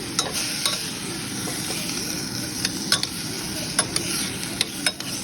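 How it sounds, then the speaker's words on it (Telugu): Bottle gourd stirred into a sesame curry in a pan, a soft sizzle running underneath while a utensil scrapes and clicks against the pan in irregular taps, close and fairly quiet. "సో ఇప్పుడు దీంట్లో సొరకాయ చక్కగా కలిపేసుకొని"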